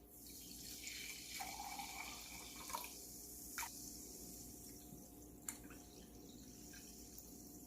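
Bottled sparkling water pours into a container for pizza dough, a faint steady trickle with soft splashes and a few sharp clinks.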